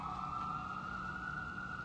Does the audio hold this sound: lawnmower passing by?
no